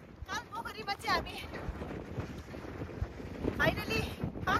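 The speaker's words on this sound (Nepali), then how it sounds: "हेर्नु यस्तो डरलाग्दो हावा चल्दो रहेछ यहाँनिर चाहिँ" Strong wind blows at Kalpokhari on a high mountain trek, buffeting the microphone with a low, uneven rumble while people talk close by.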